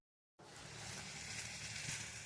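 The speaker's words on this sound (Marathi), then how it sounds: "पटापट पटापट पुऱ्या फ्राय करून घेते" Puris deep-fry in hot oil, a dense, steady sizzle that starts abruptly from silence and keeps hissing evenly at a moderate, close level, with no voices.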